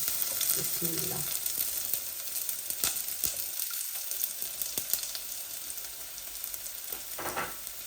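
Hot oil sizzles and crackles steadily in a pan on a home stove while prawns, garlic and snake beans are being cooked, a close continuous frying hiss with scattered pops and brief stirring clatter.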